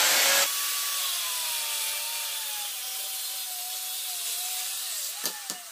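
A bicycle axle tube is cut apart with a power tool, a steady grinding whine with a slowly falling pitch held for several seconds, followed by a few short clacks.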